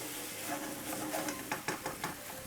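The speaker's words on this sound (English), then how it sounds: "So give it a stir just like that." Jamaican salt fish and vegetables stirred in a pot: a quick run of spoon knocks and scrapes against the pot over a soft background hiss, with no talking.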